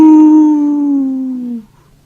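A single long howl holding a steady pitch, drifting only slightly downward before stopping; a person imitating a wolf howl.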